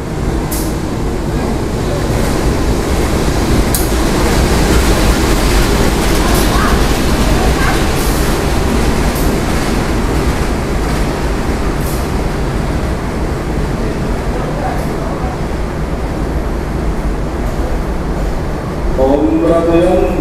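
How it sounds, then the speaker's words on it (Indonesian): The Blambangan Ekspres rumbles out of Surabaya Gubeng station, a steady loud low train drone with faint rail clatter throughout and a few scattered knocks. "Ini kereta api Belambangan Ekspres yang saya naiki sudah diberangkatkan dari stasiun Surabaya Gubeng"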